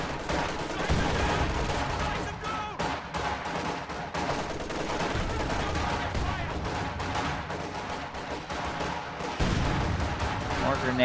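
Grenade blasts and gunfire traded during a World War II strategy game battle with Volksgrenadiers and conscripts, a dense continuous clatter of shots and explosions, with heavier bursts near the start and end.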